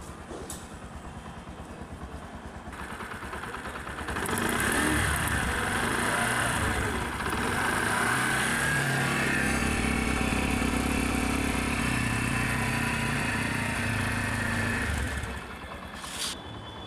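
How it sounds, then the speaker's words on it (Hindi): A 2023 Bajaj Platina 110 ABS motorcycle engine idles, then revs up and holds a higher, louder pitch before dropping back to idle near the end. "यहाँ से आपको मैं इसका एडजस्ट और इंजन नोट भी सुना देता हूँ।"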